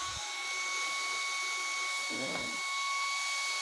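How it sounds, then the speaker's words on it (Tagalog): Mini electric fan switched on at its top speed setting, giving a steady whirring motor hum with a high-pitched tonal whine throughout, and a brief spoken word partway through. "Meron akong mini fan, guys. Open natin. Yan. Ganito siya kalakas pag 100."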